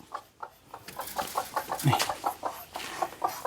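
A brooding hen sitting on eggs clucks steadily in a low, repeated rhythm, close by, with a brief higher squawk partway through.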